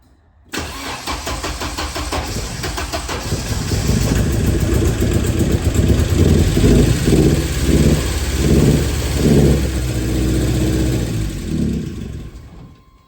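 A cheap Porsche with a carb conversion starts after its distributor cap leads were corrected, the engine catching and then running steadily and loud at close range, alone without talk.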